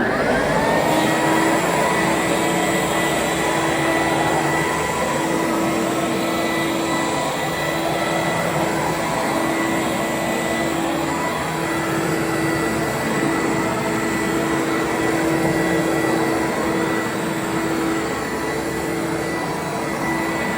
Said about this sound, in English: now just operate the machine without pressing the red button so that it can get the dirt out of the carpet now